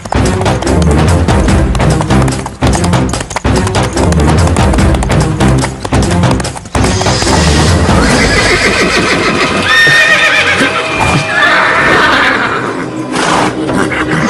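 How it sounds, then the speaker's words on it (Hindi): A horse whinnies loudly and repeatedly over the clatter of hooves at night in a forest, set against a dense, dramatic music score, with the neighing rising clearly in the second half. "ना जाने इस घोड़े को क्या हो गया है।"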